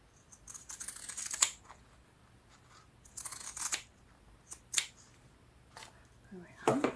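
Scissors snip through a piece of cover material for a handmade journal in several short, crisp cuts spaced across a few seconds in a quiet room, with some rustling of material.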